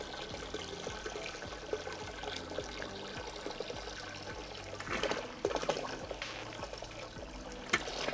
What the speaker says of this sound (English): having a nice thick hose is gonna help you suck out a lot of water a lot quicker